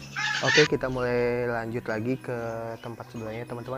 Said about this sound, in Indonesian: Di sini ada ayam kate,